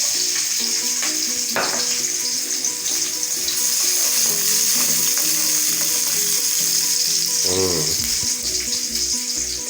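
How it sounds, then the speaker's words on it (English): Onion and garlic sizzle loudly in a hot pan for a corned beef stir-fry spaghetti sauce, with a steady hiss and occasional stirring clinks and scrapes, close and continuous. "now that it's heating up, I'm gonna go in with my onion. Then I'm gonna go in with my garlic."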